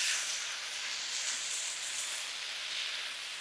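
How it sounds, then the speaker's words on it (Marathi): Steady hiss of vegetables and paneer sautéing in a pan over a gas stove on raised flame, a soft continuous sizzle with no voices. "एक 2 ते 3 मिनिटं भाज्या आणि पनीर ना आपल्याला जरासं परतवत राहायचंय"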